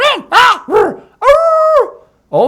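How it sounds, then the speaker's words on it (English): Dogs bark in a sound effect for an audiobook story set in an animal shelter: several quick, close barks, then a drawn-out whining yelp and one more bark, loud and alone. "All the dogs started barking at once."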